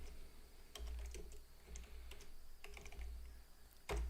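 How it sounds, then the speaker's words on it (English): Comments being typed on a computer keyboard, soft close key clicks in irregular bursts over a low steady hum, quiet with no speech. "And then here you can type some comments"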